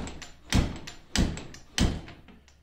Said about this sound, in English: If you find your door is not catching